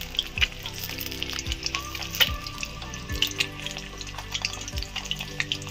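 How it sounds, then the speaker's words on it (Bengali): Eggs fry in a pan with a steady crackling sizzle, punctuated by several sharp scrapes and clanks as they are turned over, close up and without talk. "আমি এটা ডিমগুলো উল্টিয়ে পাল্টিয়ে দিচ্ছি, ভালো করে ভাজা যাতে ভাজা হয়।"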